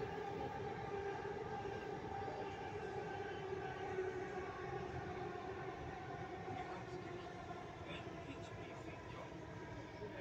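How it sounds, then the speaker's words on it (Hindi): A Delhi metro train runs at speed, a continuous rumbling roar with whining tonal hum heard from inside the carriage, steady and moderately loud with no clear voices. "अब देखिए देखिए कितनी तेज स्पीड से चलती है मेट्रो।"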